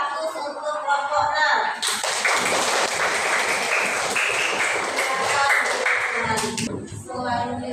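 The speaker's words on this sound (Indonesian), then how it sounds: "Silakan kasih aplaus untuk kelompok" A classroom audience applauds a presenting student group, dense clapping filling several seconds after brief talk, then fading as a voice resumes.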